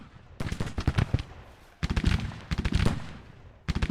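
Cannon and artillery fire in the American Civil War strategy game Grand Tactician: The Civil War. Clusters of rapid booming reports crackle in repeated waves, with a brief lull between bursts.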